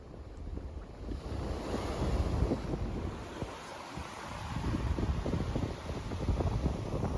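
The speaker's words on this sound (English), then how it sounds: "I love the sound of the shells against each other, especially when the waves go over them" Waves wash over a beach lined with seashells, making a continuous rushing surf with a fine crackling clatter of shells tumbling together, close to the microphone with wind buffeting it.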